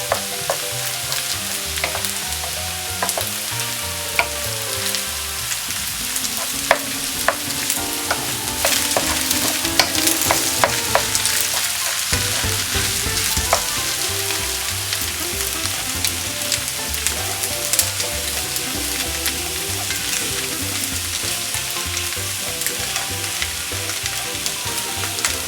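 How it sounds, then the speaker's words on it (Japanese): Egg-coated leftover rice stir-fries over high heat for fried rice, with continuous crackling sizzle and frequent sharp clinks and scrapes of a spatula against the pan, close and lively throughout. "卵でコーティングしたご飯を炒めます"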